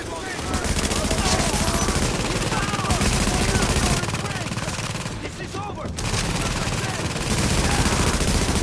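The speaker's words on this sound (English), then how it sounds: "With all that gunfire drawing the Rikers' attention, you're gonna have a nice fat bullseye on your back." Sustained gunfire in a video game firefight against Rikers, a dense, loud barrage of rapid shots and bursts that barely lets up, with a brief dip near the middle before resuming at full intensity.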